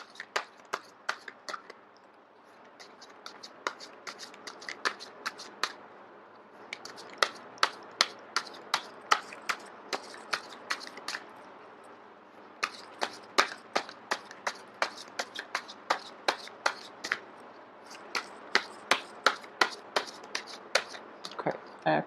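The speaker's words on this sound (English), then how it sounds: "I am going to shuffle until the first card drops out." Deck of playing cards being shuffled by hand: repeated sharp riffle snaps in uneven bursts, close and fairly quiet, with short pauses between runs.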